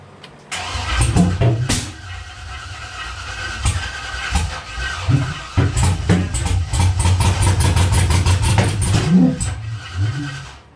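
A car engine cranks and starts, then runs and idles loudly nearby with uneven revving surges and clattering, no talk over it.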